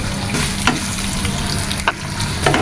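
Shrimp coated with turmeric and salt sizzle steadily in hot oil, a dense continuous frying hiss with a few sharp crackles and spits, close up and with no voices.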